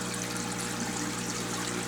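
Water in a filter tank trickles through drain notches into a back channel: a steady, close, continuous rushing trickle with no talking.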